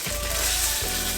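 Tomato paste sizzles in a hot pan while being stirred, a loud, close, continuous hiss with brief scraping thumps from the utensil.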